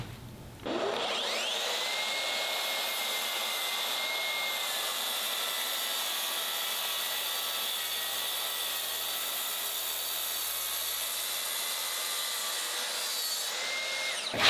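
A Festool TSV 60 track saw cuts along a rail clamped down on the workpiece, a loud, steady whining blade roar sustained for over ten seconds after spinning up, cutting off abruptly at the end.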